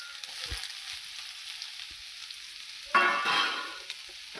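Chopped onion and green chilies hit hot oil in a pan with a sudden loud sizzle that swells and then settles into a softer frying hiss, after a few quiet clinks and stirring sounds.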